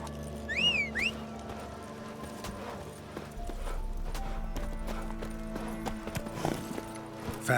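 Roach, a horse in The Witcher 3 video game, clip-clops along in steady hoofbeats amid a game soundscape, with a few brief whistle-like chirps and a low rumbling bed beneath.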